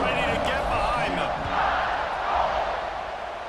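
A large college football stadium crowd at a UL Monroe versus Alabama game roars steadily at kickoff, a broad distant wash of cheering and shouts that swells and fades slightly.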